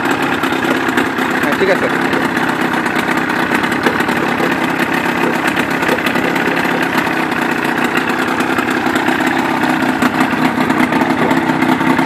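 A 1983 John 35HP outboard motor on a 12-foot fibreglass boat runs at a steady idle, a continuous close drone with a brief spoken remark over it.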